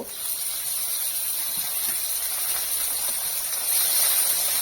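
Boiled, drained taro leaves hit a hot pan of fried chickpeas and green chillies, giving a steady loud sizzling hiss that swells slightly toward the end, with no voices.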